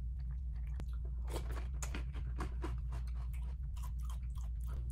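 Chocolate Nesquik cocoa cereal in milk being chewed close up, a steady series of wet crunches and bites with irregular rhythm over a low constant background hum, no talking.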